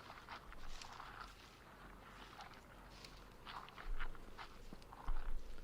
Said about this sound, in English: Strange footsteps belonged to many, many people.